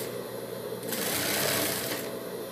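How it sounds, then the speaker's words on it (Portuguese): A sewing machine stitches fabric for a motorcycle-style mask, running in one steady whirring burst of about a second that rises and fades, close by, with quieter mechanical hum before and after and no talking. "Costurando."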